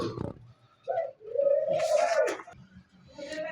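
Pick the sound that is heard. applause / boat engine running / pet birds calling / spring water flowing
pet birds calling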